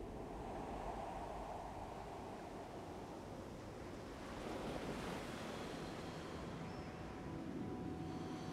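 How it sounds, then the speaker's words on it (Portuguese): Soft, continuous rushing like distant surf, the sea sound heard through a seashell held to the ear, a faint washing swell that rises gently midway with no voices. "E eu ouço o mar."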